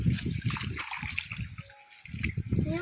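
Water flows and trickles outdoors on a farm in the Gir region of Gujarat, with a continuous splashing, sloshing stream close by and some faint voices in the background.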